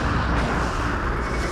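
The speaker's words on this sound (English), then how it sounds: "the splash damage off of these explosions isn't too big" Dense, continuous blasts of explosions in the video game Munch's Oddysee, a loud rumbling barrage with no pauses and no voices over it.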